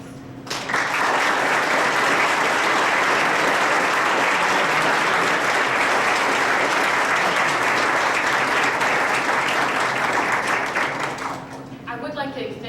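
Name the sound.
audience applause for honorees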